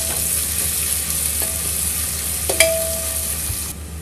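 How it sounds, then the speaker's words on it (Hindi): Chopped onion frying in a pan for dhaba-style dal tadka, a steady close hiss of sizzling oil with a few soft clicks of a spoon, ending abruptly. "और ये प्याज डाल देंगे। अब हम सबको थोड़ा सा भून लेंगे।"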